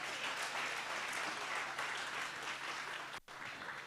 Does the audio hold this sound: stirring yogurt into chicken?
no